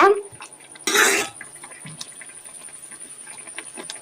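Soya meat curry with coconut milk, cooked Kerala and Sri Lankan style, bubbles and simmers in a pot with soft popping patter, broken by a short clattering burst early on and a faint steady whine behind.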